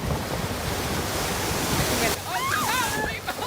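A large ocean wave crashes onto the shore as a loud, steady roar of surf and spray, then eases off while a voice talks over the lingering wash of water.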